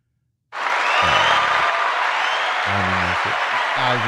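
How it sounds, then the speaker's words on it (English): A live audience bursts into a round of applause and cheering, loud and close, sustained for several seconds while someone talks over the clapping. "her round of applause."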